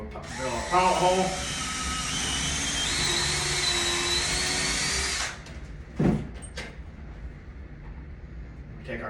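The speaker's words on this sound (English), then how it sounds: "We'll drill our pilot hole." A power drill whines steadily at close range for several seconds, drilling a pilot hole for a Tapcon concrete screw while installing a crawlspace door, then stops, followed by a few quiet clunks.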